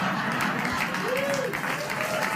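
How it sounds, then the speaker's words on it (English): Television studio audience applauds, a brief, steady wash of clapping, with a voice speaking over it. "She always gets applause wherever she goes."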